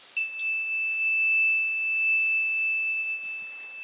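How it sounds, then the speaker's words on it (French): An alarm on an infrared beam-barrier circuit sounds a steady, piercing electronic tone that holds for several seconds at constant level, close and alone with a faint hiss beneath. "l'alarme s'enclenche"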